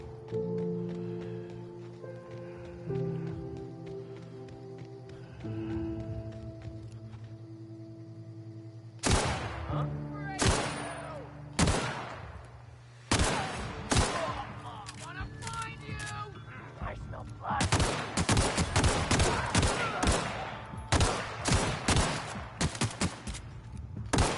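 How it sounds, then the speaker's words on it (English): Pistol gunfire in the video game The Outer Worlds arrives as sharp, loud shots, first spaced apart and then in rapid clusters, following a stretch of game music and sound, with someone talking in between. "We need to go with the pistol."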